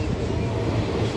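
A Shri Ganganagar to Bathinda passenger train rolls along the rails with a steady, loud low rumble and faint rhythmic clatter, heard from on board.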